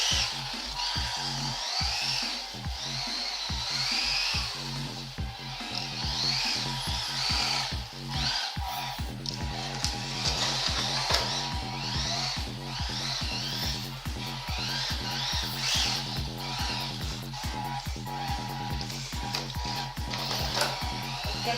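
The buzzing electric motor of a Renault R5 Turbo 2 RC car whines continuously with rapid fluttering pulses and shifting pitch, fairly faint and steady throughout with no voices over it.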